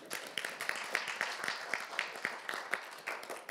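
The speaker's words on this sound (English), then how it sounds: "I'm not sure he deserved a clap" An audience claps for a pitch-event timekeeper, a steady patter of many hands of moderate loudness that runs for a few seconds with no talk over it.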